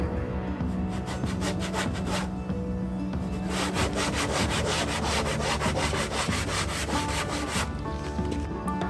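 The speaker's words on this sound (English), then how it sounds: "I can scuff the overspray so that the new layer of bed liner will stick to it." Overspray on a camper van body is scuffed by hand before bedliner goes on, giving a close, steady rhythmic scraping and rubbing with quick repeated strokes throughout.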